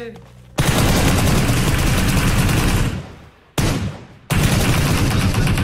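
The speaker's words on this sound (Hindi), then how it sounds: "देखो जानबूझ के फायर दे रहे" Dense, loud gunfire from enemy players in PUBG Mobile roars continuously for several seconds, breaks off briefly, then bursts again twice, close and harsh.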